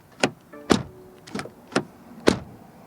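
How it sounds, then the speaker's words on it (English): Several short, solid thumps from a 2020 BMW X1 M Sport door being shut, four or five distinct closings spaced about half a second apart, close and crisp with no talk. "Then door closing sound."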